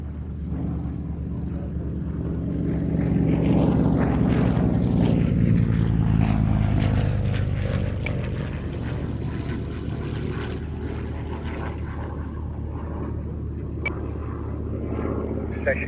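A propeller trainer aircraft flying at the Shuttleworth race day air show, its engine drone swelling as it passes nearby, then easing to a steady distant hum.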